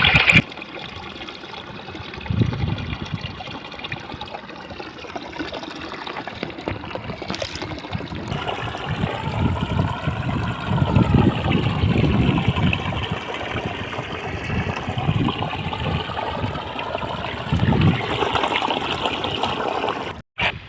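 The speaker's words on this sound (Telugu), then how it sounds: "నీళ్ళ సౌండ్ విన్నారు కదా ఎంతలా సౌండ్ అవుతుందో చూడండి" Loud, continuous rush of floodwater churning and gushing steadily through flooded paddy fields for the whole stretch, close by, with no voices over it.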